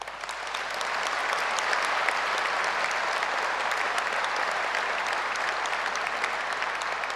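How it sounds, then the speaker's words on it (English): Sustained applause from a large crowd at a university graduation ceremony honouring staff, a dense steady clatter of many hands that swells in over the first second and holds loud and even to the end. "Let's offer a heartfelt round of applause to all of you"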